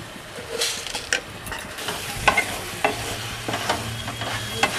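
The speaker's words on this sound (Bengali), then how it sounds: "চিনিটাও ভালো করে মিশিয়ে দিচ্ছি আলুর সাথে" Spices, boiled potatoes and a little sugar being stirred in a sizzling pan for Bengali ghugni, with a low fry and repeated scraping strokes of a spatula, no voices.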